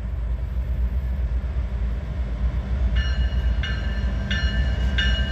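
A loaded freight train hauling auto racks of cars and pickup trucks rumbles past with a deep continuous roar, and a repeating tonal bell or horn pulse joins in over the last seconds.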